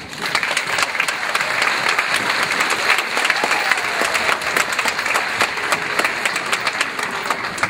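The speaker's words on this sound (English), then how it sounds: "please stand for a round of applause" A commencement ceremony audience standing to applaud everyone who helped make the evening possible: loud, sustained clapping from a large crowd, dense and even throughout with no speech over it.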